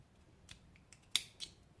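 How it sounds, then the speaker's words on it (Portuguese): Scissors snip into raw cotton fabric in a few quick, close cuts, one sharper click standing out, with no talking. "eu vou pegar com uma tesoura, eu vou fazer um piquezinho bem no meio"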